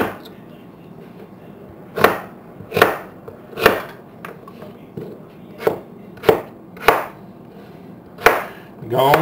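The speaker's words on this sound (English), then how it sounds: "Go on, cut up both your taters just like that right there." A knife chops through potatoes on a cutting board, about ten steady, firm cuts at a slow, even pace, close and distinct.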